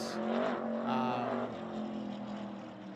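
The number 46 Legends race car running on the track at Hythe Motor Speedway gives a steady, moderately faint engine drone that swells slightly and then eases off.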